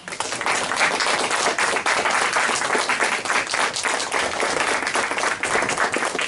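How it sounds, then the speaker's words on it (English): A class applauds a guest speaker named Ken, grandson of a Korean War leader, with a dense, steady round of clapping from many hands that carries close and loud throughout. "I'd like to give Ken a round of applause"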